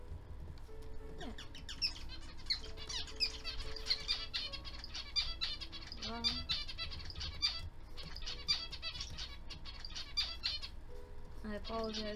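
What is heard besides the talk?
pet birds chirping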